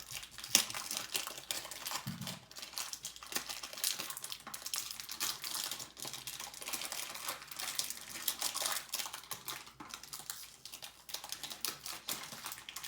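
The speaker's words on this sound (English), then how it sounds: "I'm going to go ahead and take off this plastic covering for you guys." Crinkly plastic wrap rustles and tears in quick, irregular bursts up close as it is pulled off a taped-up Tarmac Works box, a busy crackling that continues throughout without any voices.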